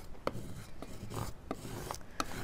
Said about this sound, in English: So now I'm going to burnish this down.